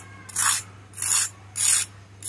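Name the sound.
crispy toasted sandwich crunching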